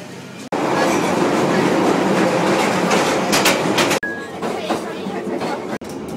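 Inside a moving London Underground tube train: a loud, steady rumble and roar of the carriage on the rails, with clicks and brief sharp breaks in the noise, and faint voices underneath.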